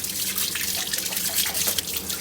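Muddy Jerusalem artichokes scrubbed by hand under a running kitchen tap, a close splashing, dribbling rush of water with soft rubbing, brief and continuous.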